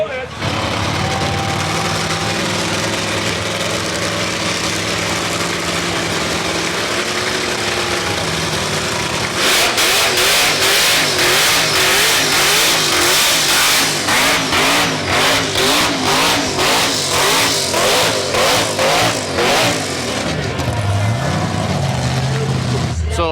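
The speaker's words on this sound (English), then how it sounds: "So burnouts are judged in a number of different ways." A car doing a burnout rumbles at a steady idle, then revs hard in loud pulsing surges with a harsh roar that holds to the end, while voices talk underneath.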